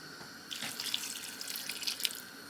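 Water runs from a kitchen tap into a vessel during preparation of a lentil shepherd's pie, a close, steady splashing rush lasting about two seconds after a brief quiet start.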